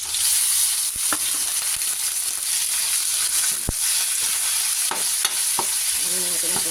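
Chicken pieces sizzle steadily in hot sautéed oil for pancit. A utensil stirs and scrapes the pan with occasional sharp clinks.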